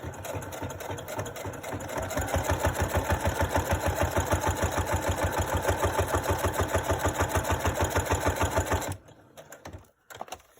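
A sewing machine stitches through three layers of paper journal pages, its needle hammering in a fast, steady rhythm for about nine seconds before stopping, followed by a few quiet handling sounds.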